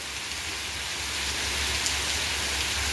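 Heavy, continuous rain, falling for half an hour: an unbroken, dense hiss of rain on surfaces, steady and fairly distant-sounding, with no talking.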